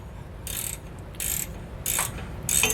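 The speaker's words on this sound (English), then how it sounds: "I'm just going to go through and get these tightened down." Hand tools tightening bolts on a Roadmaster rear anti-sway bar for a 2018 Thor Windsport motorhome: four short ratcheting bursts, each about a quarter second, close by over a low steady background rumble.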